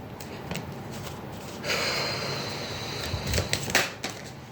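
Tarot cards being handled and pulled from a deck make soft papery rustles and slides, with a brief riffling burst in the middle and a few light flicks near the end, quiet and close with no talking.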